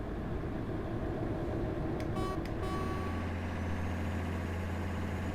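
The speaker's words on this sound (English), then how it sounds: "Yeah, that turbo spooling up." Mercedes Actros MP2 truck in Euro Truck Simulator 2, its engine droning steadily and loud while a rising turbo whistle builds near the end, with a brief high beeping tone midway.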